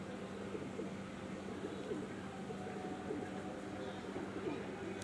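Pigeons coo in a loft holding high-flying breeds, including a short-sized Fulshira hen, a soft steady murmur of cooing and bird sounds running throughout under a low continuous background hum.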